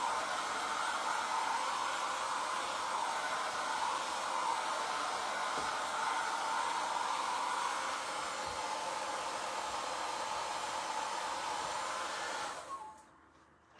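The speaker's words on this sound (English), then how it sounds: "Get out a little gator sander." Small Gator electric sander running steadily on a surface being prepped for a chalk transfer, a loud continuous whirring hiss that holds for about twelve seconds before cutting off abruptly.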